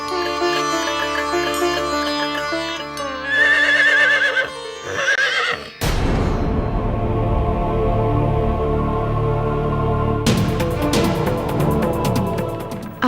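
A mare whinnies loudly over dramatic orchestral music, then a sharp swelling crash of sound effects follows, with hoof clip-clop hinted beneath the dense, continuous score.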